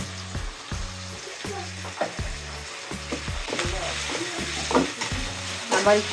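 Ginger and garlic paste sizzles steadily in a hot pan, with regular scraping stirs of a utensil and a brief spoken remark over the frying.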